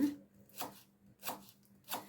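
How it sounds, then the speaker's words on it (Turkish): Three distinct knife chops on a cutting board, chopping fresh mint, spaced evenly and close, with quiet pauses between each cut. "Bu şekilde minik minik doğrayalım"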